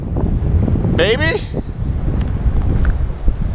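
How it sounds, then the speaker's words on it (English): Heavy wind at Piha black sand beach, New Zealand, buffets the microphone with a constant low roar, while a person briefly speaks partway through. "it is so windy out here"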